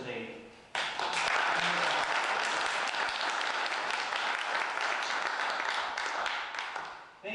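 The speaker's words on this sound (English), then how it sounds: "So one more applause for all of the award winners today." Sustained crowd applause for award winners at a Homer Glen community event, starting abruptly after a brief spoken moment and holding steady and loud for several seconds before tapering near the end.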